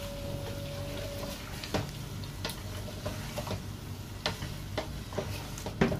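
Tomato paste being stirred into chicken karahi masala in a pan, with soft scraping and clicking stirs at an irregular rhythm over a low steady sizzle, heard close.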